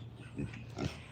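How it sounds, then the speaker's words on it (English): Pigs on a farm give two low, soft grunts about half a second apart, nearby but fairly quiet, over a faint background hum. "Oh, the pigs want to come and say hi."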